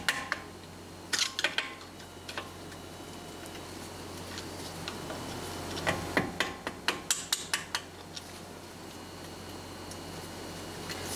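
Metal tapping from a tool knocking brake caliper pins out on a Tesla electric car during spring maintenance: scattered sharp taps, then a quick run of closely spaced knocks near the end, over a steady background hum.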